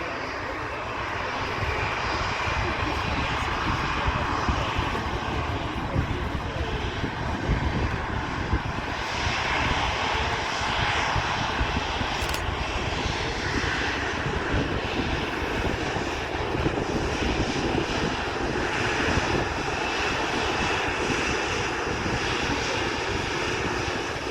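A TUI airliner turning on the ground at Manchester Airport, its engines producing a steady, loud broadband roar that holds unbroken throughout with no talk over it.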